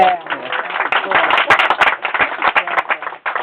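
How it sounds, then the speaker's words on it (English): A small tour audience at Silver Springs claps for Sugar, a rescued animal, with close, uneven hand claps in a dense burst that thins toward the end. "Let's give him a big round of applause"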